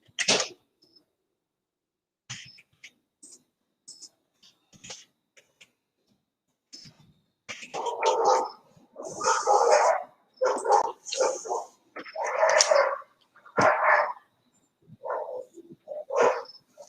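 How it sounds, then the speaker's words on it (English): An excited dog barks in bursts outdoors, a few scattered yaps at first and then a dense, loud run of rapid barks that comes and goes in rhythm. "this dog is going crazy over here"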